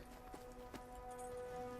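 Thoroughbred horse hooves from Red Dead Redemption 2, a few quick clip-clop strikes close by at a galloping pace over steady game ambience, fairly faint.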